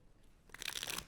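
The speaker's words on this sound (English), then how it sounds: "I'm shuffling it twice." A deck of playing cards being shuffled in a lecture hall, a short crisp burst of riffling and fluttering card noise that starts abruptly and runs for about half a second, fairly close and alone.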